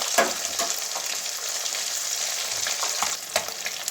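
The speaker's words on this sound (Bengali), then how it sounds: "যাতে মাছগুলো না ভাঙে সেভাবে ভাজবো" Tangra fish frying in hot oil, a close, continuous bright sizzle with crackling spits and a few sharper pops, no voices over it.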